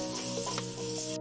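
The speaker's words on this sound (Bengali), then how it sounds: "এখন আমি হালকা নাড়াচাড়া করে নিচ্ছি।" Torn dry red chillies and two bay leaves fry in hot oil as they are gently stirred, giving a brief, even, close sizzle with light stirring.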